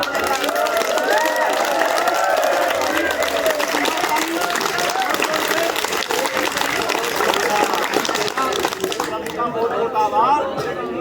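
Schoolchildren at an inter college assembly clap with raised hands amid lively crowd chatter and hubbub, a continuous, fairly loud mix that thins near the end.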